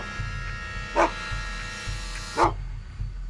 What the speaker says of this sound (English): Then I hear a dog barking.